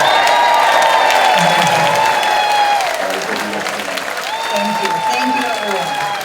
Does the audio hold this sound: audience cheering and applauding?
yes